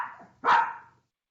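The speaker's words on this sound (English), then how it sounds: "Like that the dog barks at the end" A single dog bark rings out sharply and close, preceded by a brief softer whine or growl, then fades into silence.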